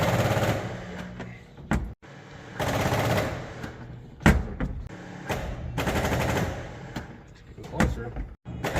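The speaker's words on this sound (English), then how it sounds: "hopefully the old 6600 will fire up" An old John Deere 6600 tractor engine, boosted from a battery charger, cranks in several loud bursts separated by short pauses, with brief voices in between.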